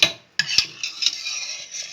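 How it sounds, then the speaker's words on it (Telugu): A metal spoon clinks against a pot as it is lifted out of cooking methi dal, giving a few sharp, close taps followed by a faint ringing scrape. "ఇప్పుడైతే ఇందులో స్పూన్ పెట్టాం కదండి, అది తీసుకుందాం"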